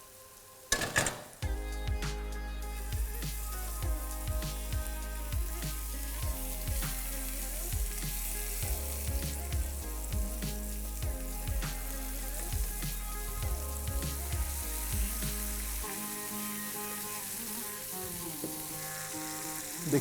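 Tomato gravy masala and chicken frying side by side for a chicken curry: a constant close sizzle of hot oil runs throughout, broken by repeated soft knocks and scrapes of a utensil against the pan, with no talking.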